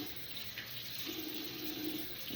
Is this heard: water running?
yes